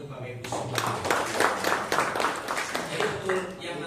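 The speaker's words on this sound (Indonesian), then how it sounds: "Tepuk tangan untuk Bapak Ibu semua" An audience at a meeting of a micro, small and medium business association claps in a dense, steady round of applause that rises quickly and carries on at moderate loudness.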